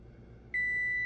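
Kitchen timer beeping during muffin baking, a single sustained high electronic tone that starts abruptly midway and holds, loud and close over a quiet room.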